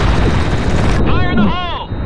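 A grenade blast in the shooter game Blackshot: one loud, heavy boom right away that rumbles and fades, while a voice speaks over the tail.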